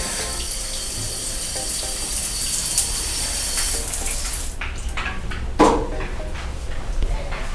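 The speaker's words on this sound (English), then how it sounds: "this fancy shower head. Let me turn it on a little bit." Water runs steadily from a fancy shower head in a beach house bathroom in Montego Bay, Jamaica, a continuous hiss with a brief louder splash near the end.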